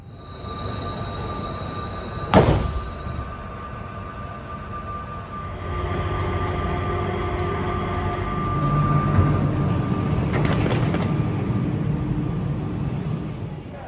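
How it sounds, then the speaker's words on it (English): The Changi Airport SkyTrain linking terminals rolls past with a sustained rumble, a sharp clank early on and wheels squealing and rising in the middle, loud and close. "you can hop on the SkyTrain that conveniently links all the terminals together"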